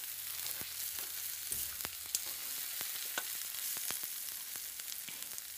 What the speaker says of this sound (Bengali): এখানে দিয়ে দেবো আদা বাটা, সরি রসুন বাটা, সব মিশিয়ে ভেজে নেবো আমরা।